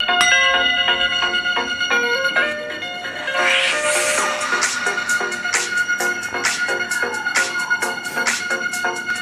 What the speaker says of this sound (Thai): เดี๋ยวเรามาลองเสียงลำโพงกันครับรุ่นนี้มาพร้อมกับลำโพงคู่ Dolby Atmos